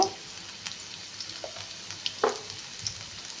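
Soft crackling sizzle of spices frying in hot oil, with a few sharp clinks of a utensil stirring in the pan.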